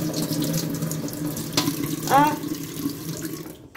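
Water runs steadily from a tap during washing, a continuous splashing stream with a child's brief exclamation and a sharp squeal over it.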